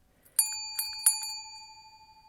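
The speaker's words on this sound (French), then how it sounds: "Pour indiquer le passage d'une partie à la suivante, vous pourrez entendre ce bruit de cloche." A bicycle bell rings a few quick times, a bright metallic ding followed by two more strikes, then the tone slowly fades out alone.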